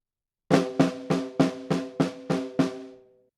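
Snare drum flam groove at 100 BPM for a drum part, eight evenly spaced ringing snare hits played alone, close and clear with a short decay after the last stroke.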